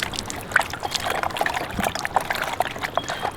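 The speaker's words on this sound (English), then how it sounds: "Wow, it's bubbling." Water bubbles and trickles steadily inside a cordial bottle set as a live-bait fish trap, a continuous close gurgle with small splashes and no voices.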